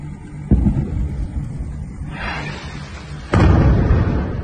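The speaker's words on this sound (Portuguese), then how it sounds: "ver algumas explosões aqui, né?" Bombardment explosions in Donetsk during the war land in the distance: a muffled thud, a rushing swell, then a louder boom with a lingering rumble, all outdoors with wind on the mic.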